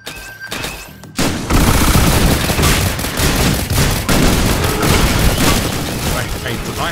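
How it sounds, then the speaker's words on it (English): Shotgun blasts in Risk of Rain Returns, loud booming shots fired in quick succession after a short quiet lead-in, with heavy impacts and chaotic combat noise filling the rest of the fight. "Shotgun's not bad."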